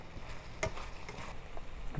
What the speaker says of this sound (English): I'm gonna stir it around a little bit with the Rada spatula